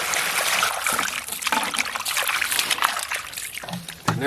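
Prawns being washed under running water, with a steady trickle and splashing, occasional sloshing and handling noises, close by.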